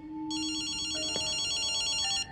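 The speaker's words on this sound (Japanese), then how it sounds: "電話だぜ。" Phone ringing in the video game Ghostwire Tokyo, a bright electronic trilling ring that starts abruptly and holds steadily for about two seconds over a low ambient hum, then cuts off.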